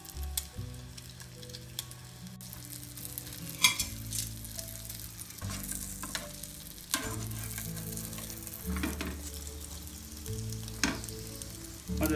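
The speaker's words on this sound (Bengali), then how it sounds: "আস্তে আস্তে করে এপিট ওপিট উলট পালট করে ভেজে নিতে হবে।" Roti moglai frying in a pan, a steady low sizzle broken by several scraping knocks and clatters as the flatbread is turned over, with no talking.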